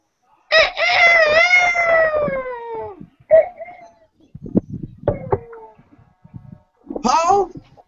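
A farm rooster crows loudly and close, one long drawn-out call, followed by brief clucks and a second shorter crow, with people talking quietly in between.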